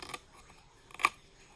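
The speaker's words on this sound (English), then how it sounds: "Okay, scissors." Scissors make a couple of quick, faint snips while trimming, close by and quiet, with no talk.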